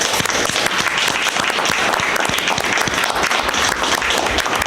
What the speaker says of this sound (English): he does deserve a round of applause from the people that are here